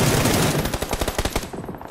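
Rapid automatic gunfire in PUBG on the Erangel map, a dense burst of repeated shots that rattles on for nearly two seconds and tapers slightly toward the end, close and loud with no talk over it.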